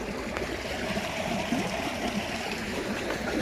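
Irrigation water runs steadily into a village farm field beside sugarcane and castor plants, a continuous close rushing and gurgling flow with no pauses.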